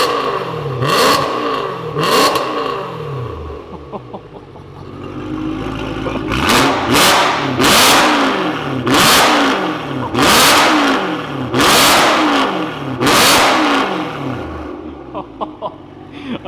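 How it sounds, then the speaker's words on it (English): A BMW E92 M3 engine with a custom exhaust revs hard in a series of sharp blips, the loud raspy exhaust barking and crackling between each burst. "let's give it some blips."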